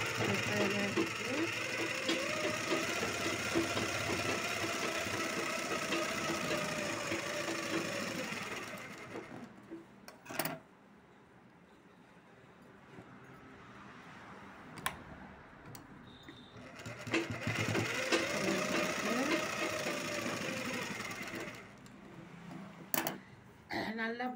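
A sewing machine runs in two long bursts while stitching a blouse, with a quiet pause between them and a voice talking over the stitching.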